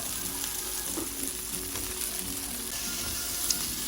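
Onions fry in a pan for a stir-fry of bok choy and mushrooms with perilla powder, giving a continuous close sizzle with occasional light stirring scrapes and a small clink near the end.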